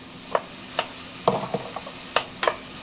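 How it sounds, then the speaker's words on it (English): Finely chopped onion sautéing in olive oil in a medium saucepan, a steady sizzle broken by several sharp scrapes and clinks of a spoon stirring against the pan, close and fairly quiet, with no talking. "we're going to saute this for a few minutes"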